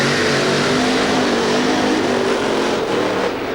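A drag racing car, John Spafford's Showtime car, doing a burnout at Santa Pod in 1992: a loud, sustained engine roar with steady tyre noise, continuous and close for the whole stretch.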